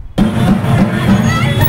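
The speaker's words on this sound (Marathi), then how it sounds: "जल्लोष करण्यात आला" Supporters celebrate at Rajkamal Chowk in Amravati, a loud crowd din with cheering and babble starting abruptly and holding steady.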